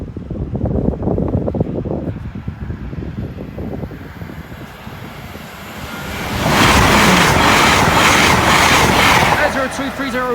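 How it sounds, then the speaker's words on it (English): A Class 91 electric train roars past Church Lane level crossing, rising from wind-buffeted ambience into a loud, sustained rushing rumble as it passes close by; people talk over the earlier part. "Here's the last train."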